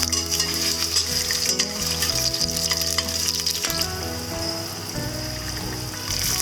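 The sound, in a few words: ginger and garlic frying in a wok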